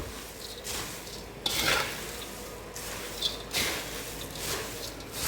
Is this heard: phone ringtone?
no